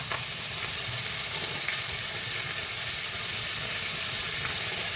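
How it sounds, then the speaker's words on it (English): Defrosted frozen shrimp sizzle steadily in a hot pan, a close, even frying hiss with no talk. "you can always tell if it's ready because it'll sizzle."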